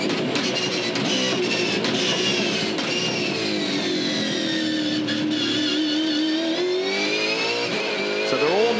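V8 Supercars race cars at Adelaide sweep through turn 8 with a loud, steady engine howl that rises and falls slightly as they pass, close and continuous.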